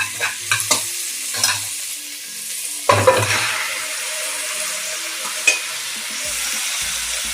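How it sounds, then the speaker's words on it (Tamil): Mutton coated in ginger garlic paste frying in a pan, with loud scraping stirs near the start and a burst of sizzling clatter around the middle, then a steady quieter sizzle without talk. "இது கொஞ்சம் வதங்கட்டும்."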